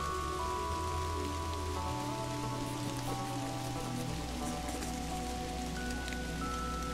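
Steady rain pouring in the adventure game Kathy Rain, a constant hiss of drops on surfaces mixed with soft sustained game music tones and no voices.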